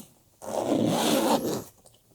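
One long zipper pull opening the case of a Zhiyun Crane 4 gimbal, close and loud, lasting just over a second and followed by quiet.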